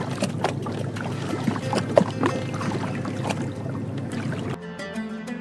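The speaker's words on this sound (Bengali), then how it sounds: "সরু এই খালে ভাসতে ভাসতে নৌকা আগাতে থাকে জলাবনের দিকে" A rowboat drifts along a narrow canal through a swamp forest near Sylhet, with soft water lapping and trickling against the hull close by, fairly steady, easing off near the end with no talking.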